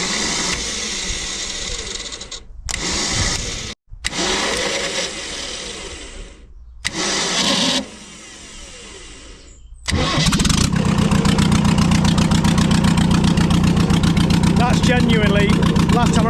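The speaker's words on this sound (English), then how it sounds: "So I've just changed the lift pump. Now it's the first start up" A diesel engine with a newly replaced lift pump is cranked in several short bursts separated by pauses, then catches on the first start-up and settles into a loud, steady running rumble.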